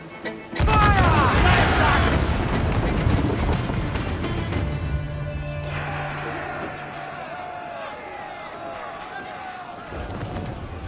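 Ship cannon fire in the naval game Assassin's Creed IV Black Flag: a sudden loud booming volley opens, followed by rumbling, crackling battle noise and sea ambience, with a shouted command over it.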